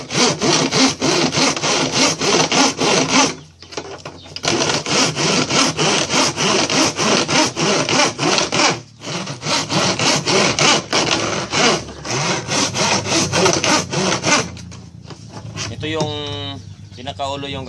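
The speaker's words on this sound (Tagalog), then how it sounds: "So gagamitin natin lagari na lang." Hand saw cutting through a recycled plastic container, steady rapid back-and-forth strokes loud and close, with brief pauses around 3.5, 9 and 15 seconds, and a faint bird coo near the end.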